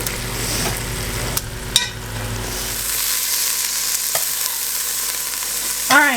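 Beef pieces sizzle and fry in olive oil in a pan, a steady crackling hiss broken by a few clunks of stirring and tossing, close and moderately loud.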